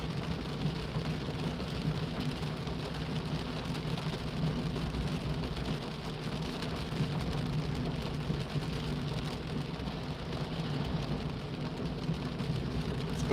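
Heavy rain drums steadily on a car at night on a UK road near Wigan, a constant dense hiss with a low rumble of the moving vehicle beneath.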